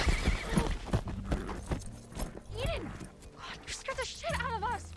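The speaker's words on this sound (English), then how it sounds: "they were jump scared by a horse" Horse whinnying during a jump scare in a Children of the Corn horror film, with rapid hoof clopping and several rising and falling neighs in the last half, mixed with dialogue and other movie sound.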